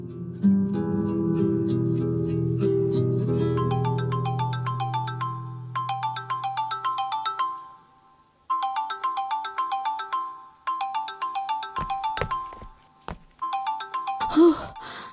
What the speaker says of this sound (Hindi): देखिए तो मीरान की कॉल आ रही है